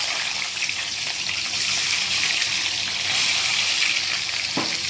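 Steady crackling sizzle of shallots frying in hot oil, continuous and fairly loud throughout, with a brief clink near the end.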